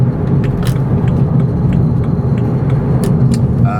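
Engine of a 2011 BMW 335i convertible at quarter throttle, a steady, loud low rumble heard from inside the car with faint clicks and rattles over it.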